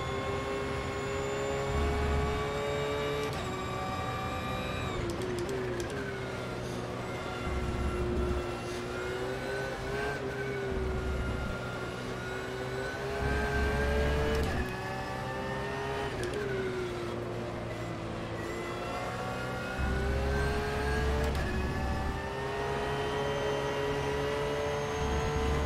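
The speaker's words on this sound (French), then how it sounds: "Oh, elle va vite la McLaren." A McLaren race car drives fast, its engine giving a continuous high, whining roar that rises and falls with repeated shifts and revving, loud and steady throughout the stretch.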